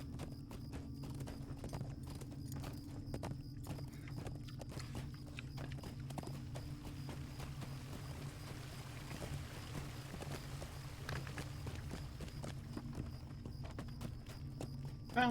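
Horse hooves clip-clop in a steady, quick rhythm while riding in the Lord of the Rings Online video game, continuous and fairly quiet over a low ambient hum, with no talk.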